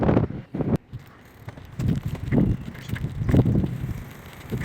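Strong gusts of wind buffet the microphone while riding a U-bike bicycle through a neighbourhood street in Taiwan, coming as loud rumbling bursts that rise and fall with no talking.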